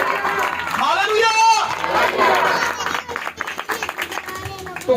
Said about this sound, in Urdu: زوردار تالی بجائیں